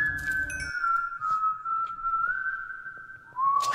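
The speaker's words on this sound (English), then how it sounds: "the whistling man" The whistling man anomaly in the Minecraft video game gives one long, sustained, clear whistled note that holds steady, then breaks off and slides to a lower pitch near the end, with faint background sounds.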